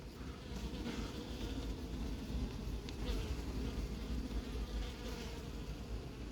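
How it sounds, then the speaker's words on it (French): A wasp buzzes steadily inside an anti-hornet capture box at an apiary, a continuous close droning hum with faint wing flutter throughout, with no talking. "Une guêpe capturée dans la boîte de capture."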